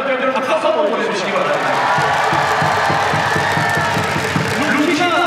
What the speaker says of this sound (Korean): 윤영철 선수가 이렇게 이번 시즌 너무 멋진 활약을 보여줬다고 생각하면 박수 한번 보내주시기